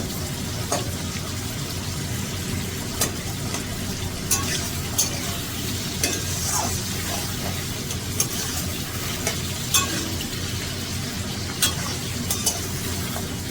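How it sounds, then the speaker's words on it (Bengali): Tomatoes fry in a pan with a constant close, loud sizzle and crackle, broken by small spits and occasional stirring scrapes. "টমেটো থেকে কাঁচা গন্ধটা বেরিয়ে যায়, তার জন্য একটু ভালো করে ভেজে নিতে হবে।"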